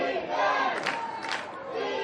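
A crowd chants for defense at a professional ultimate frisbee game between the Vancouver Nighthawks and San Francisco Dogfish, a steady roar of many voices with rhythmic swells of shouting, loud and sustained throughout.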